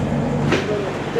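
A long-distance passenger train stands halted at a railway station, giving a steady broadband rumble and hum of station and carriage ambience, with voices talking throughout.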